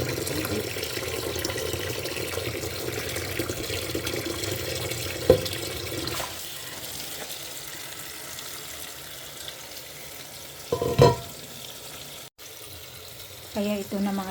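Tap water runs into a sink while vegetables are rinsed, a soft steady splashing with occasional clunks and sharper knocks of handling, lighter in the later part.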